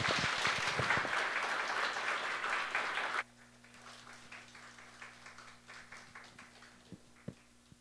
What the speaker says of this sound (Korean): 크게 박수하기를 원합니다.